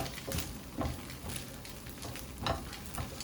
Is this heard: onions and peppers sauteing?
yes